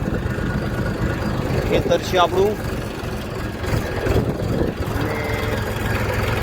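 A tractor engine runs steadily on a farm field soon after rain, its low rumble continuous throughout while someone talks over it.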